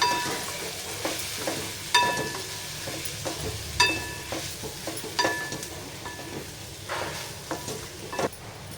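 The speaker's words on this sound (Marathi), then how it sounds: "आता इथे मसाले छान परतून घ्यायचे" Spices fry with a soft sizzle in a pan for chana masala while a spoon scrapes and stirs in repeated strokes; no one speaks.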